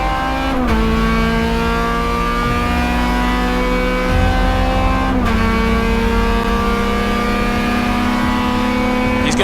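A Honda Civic EG race car on a track drives at high revs with a loud, sustained engine drone and gear shifts, while other race cars are heard nearby.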